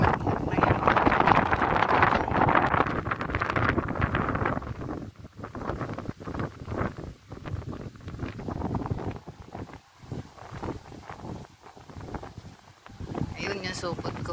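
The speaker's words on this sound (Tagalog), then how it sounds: "Malakas ng hangin. Yan, ang lakas ng hangin." Strong gusting wind rushes and roars around a fruit tree, loudest in the first few seconds, then continues in uneven bursts while people talk over it.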